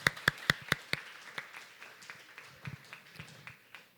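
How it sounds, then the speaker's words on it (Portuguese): Applause at a youth council session, a few sharp claps at first, then a thinner, scattered clapping that tapers off over a few seconds. "Salva de palmas, então, para a indicação do Pedro Henrique"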